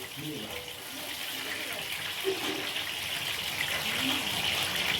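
Water poured in a home kitchen while corn bhajiya fritters are being made, a steady rushing gush heard throughout, close and moderately loud, with faint voices underneath.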